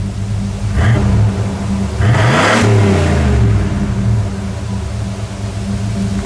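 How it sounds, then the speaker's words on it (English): A 1979 Chevrolet Camaro Z28 with a 350 V8 revs twice, each throttle blip rising sharply out of a rough, rumbling idle and falling back, close and loud, with no talking. "And then let's give it a little rev, shall we?"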